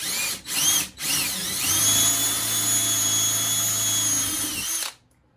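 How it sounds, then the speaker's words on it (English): A power drill revs in two short bursts, then whines steadily for a few seconds before cutting off while drilling holes in a goat barn. Close and loud, with no voices. "I'm going to drill myself"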